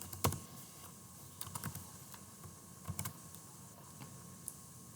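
Keystrokes on a computer keyboard clack in short irregular bursts, close and fairly quiet, with a few sharper isolated taps and no voices.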